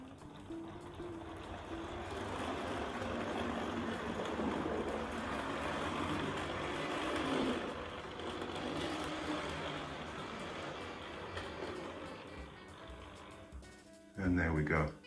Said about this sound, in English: So we're pushing the whole train into the station now.